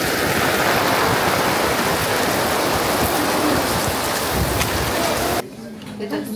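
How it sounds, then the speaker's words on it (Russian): Heavy rain falling outdoors in Karelia, a loud, dense, continuous hiss of drops that cuts off abruptly near the end, leaving a much quieter background. "Спасаемся от дождя, как можем."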